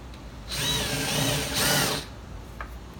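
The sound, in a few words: drilling a pilot hole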